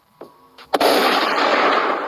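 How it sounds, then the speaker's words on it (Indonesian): A couple of faint thuds, then one loud gunshot-like blast with a long, roaring rumble that lingers and slowly fades, no voices. "ada suara tembakan dari sana."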